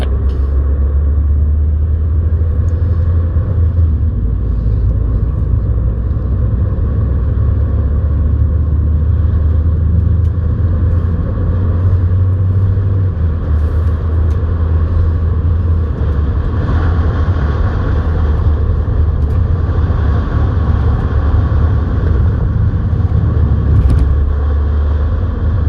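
Peugeot 308 GT SW estate running on the Brands Hatch circuit over rumble strips, a loud steady low engine and road rumble that continues throughout with no talk.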